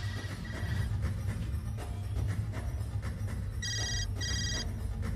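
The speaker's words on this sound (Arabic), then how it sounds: "عن إذنكم لحظة، إجاني اتصال" A telephone rings with an incoming call, two bright electronic ring bursts near the end over a steady low background hum, loud and close, with no talk.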